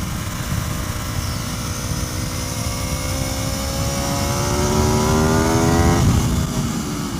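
An Aprilia RSV4 motorcycle on a race track, a bike with 30,000 miles on it, roars loudly and steadily at high revs, its engine pitch climbing through the gears before a brief dip.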